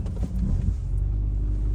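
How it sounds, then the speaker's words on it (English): A Volkswagen Beetle converted into a pickup truck drives past, its low engine rumble loud and close at first, then easing into a steady drone as it moves on. "It's a Beetle pickup truck."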